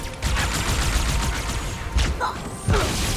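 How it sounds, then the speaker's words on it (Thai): Explosion in the video game Halo 2, with bursts of gunfire and sharp blasts crashing through a dense, noisy battle scene. "โดนระเบิดเต็มๆตายเลยนะครับ"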